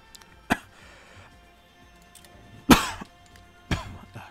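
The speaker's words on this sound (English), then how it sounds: "Ah, sorry, I got a cough." Three sharp, dry coughs spaced apart, the middle one loudest, over faint background music.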